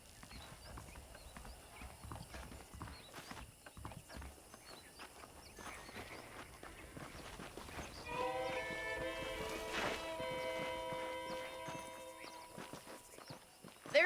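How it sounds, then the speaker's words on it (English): Saddled horses walk with steady clip-clop hoof beats in the Red Dead Redemption video game, fairly quiet and continuous, joined midway by a sustained tonal musical layer. "The horses are saddled up over here."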